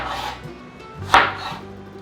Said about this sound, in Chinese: 把茄子切一半，